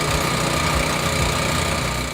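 A Lawn Solutions Turf Revitalizer's small engine runs at a steady idle, a loud, close, continuous drone with an even low rumble and no voices.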